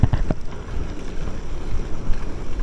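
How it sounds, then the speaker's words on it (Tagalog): Strong wind roars and buffets steadily during a bike ride, rumbling in low gusts against the microphone without pause. "malakas pa rin yung hangin"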